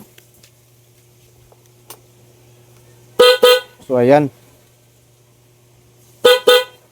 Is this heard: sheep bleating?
no